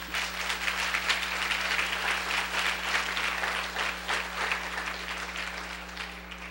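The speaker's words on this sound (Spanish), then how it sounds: "Denle un aplauso al Señor, ¿no?" Church congregation applauding the Lord during a sermon in Mexicali, a dense, sustained wash of many hands clapping together, loud and even throughout, with a steady low hum beneath.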